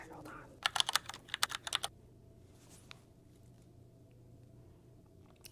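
Quick burst of light taps as a password is typed on an iPad touchscreen keyboard, about a dozen rapid clicks over a second, then near silence with a faint stray tap; a brief word is spoken.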